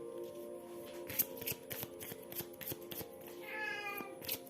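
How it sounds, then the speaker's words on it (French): A domestic cat meows faintly in a quiet room, a few soft calls among light rustling and tapping sounds, with no talking over it. "C'est mon chat."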